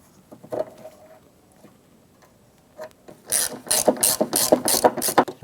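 A hand ratchet drives screws into a tailgate handle on a 1997-2006 Jeep Wrangler. Faint handling noises give way to loud, close, rhythmic clicking strokes near the end.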